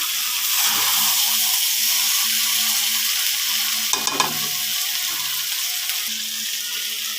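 Curry being stirred in a pan to keep it from sticking, a continuous hissing sizzle with occasional scraping strokes of the spoon, fairly loud and close, no speech.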